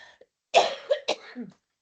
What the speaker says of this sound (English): I am sorry, I keep coughing.